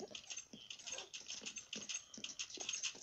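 Quick, soft patters and small scrabbling sounds repeat rapidly, like several dogs' paws moving about nearby, fairly quiet and without voices.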